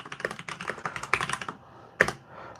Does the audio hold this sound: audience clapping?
no